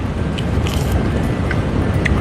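Close, wet crunching and chewing as someone bites into hot, freshly fried crispy tofu, with a few soft clicks.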